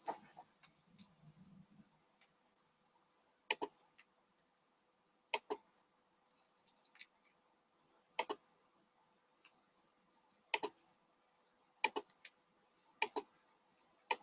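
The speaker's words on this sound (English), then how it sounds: "Hearing clicking." Sharp, dry clicks crackle over a conference call line, arriving in irregular bursts every second or two, with a faint low murmur near the start and no talking.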